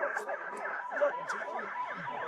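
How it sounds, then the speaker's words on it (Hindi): An ambulance siren wails in a Korean drama scene, a rising and falling electronic tone that repeats evenly and sounds moderately distant. "क्या इस एम्बुलेंस को तुमने बुलाया है?"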